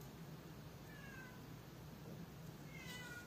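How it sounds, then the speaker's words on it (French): A cat waking up gives two short, thin meows about two seconds apart, faint and fairly close over quiet room noise, with no talking. "il y a mon chat qui se réveille"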